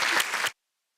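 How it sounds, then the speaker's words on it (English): A school board session crowd applauds in a short, dense burst of many hands clapping. It cuts off abruptly after half a second and leaves silence. "Let's give her a big round of applause."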